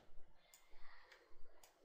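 Computer mouse clicking while working in Flash CS5, a few sharp, quiet clicks spaced unevenly over a short stretch, close up with no talking.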